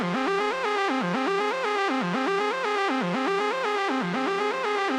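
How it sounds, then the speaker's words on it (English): A buzzy synth line with filter, EQ and delay pulses in a repeating melodic techno pattern, echoing repeats smearing each note into the next, loud and continuous. "you can hear the delay is really important"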